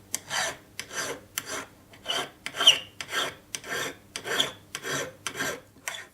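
A metal file rasps back and forth across a silver bezel to remove excess solder, about a dozen even, close strokes in a steady rhythm with brief pauses between them.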